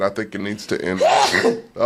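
A single loud sneeze bursts out close to the mic right after a person speaks, then talking resumes briefly.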